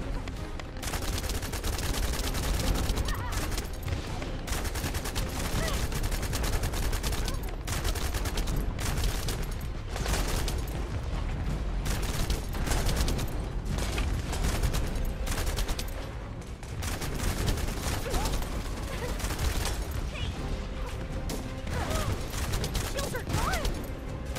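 Dense, continuous gunfire during a boss fight in the video game The First Descendant, rapid shots layered over game effects and music for the whole stretch, with a player talking over it at times.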